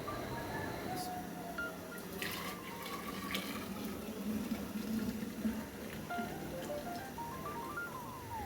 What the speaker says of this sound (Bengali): চাগুলা ফ্লাক্সে ঢেলে নিচ্ছি।